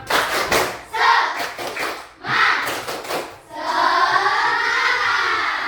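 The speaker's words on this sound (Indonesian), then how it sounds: "Coba kita semangat dulu. Tepuk semangat." A class of students in sports uniforms performs a rhythmic group clap in a classroom, with sharp bursts of clapping in patterned groups followed by voices chanting together.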